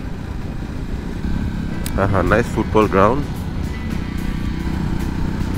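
A motorcycle rumbles steadily on a road, its engine drone continuous beneath a man's brief speech in the middle.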